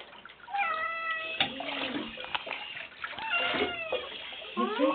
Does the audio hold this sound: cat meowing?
yes